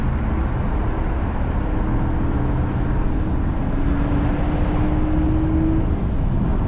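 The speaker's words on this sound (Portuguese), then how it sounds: "Vamos dar uma ouvidinha no V6ão?" A 2009 Honda Accord's 3.5 V6 i-VTEC engine revs up under acceleration, a loud continuous low drone with a rising tone that climbs steadily and then holds near the end.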